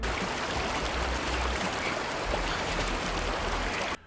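Loud, steady roar of a rushing river in a film, broadband churning water filling the whole span with no let-up until a brief drop at the very end.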